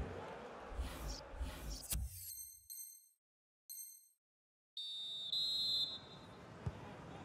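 A referee's whistle in the FIFA 20 football video game sounds for half-time in a few short, shrill blasts with brief silences between. Stadium crowd noise returns afterward.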